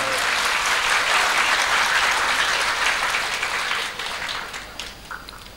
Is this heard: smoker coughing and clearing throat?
no